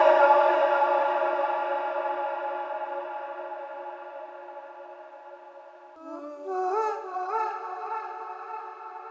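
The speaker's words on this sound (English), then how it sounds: "that is pretty much just the lead vocal copied, and then I threw on chorus echo" Copied lead vocal run through a chorus echo effect, a sustained harmonic vocal tone slowly decaying for about six seconds, then short wobbling vocal stabs with shimmering echo tails in a mix.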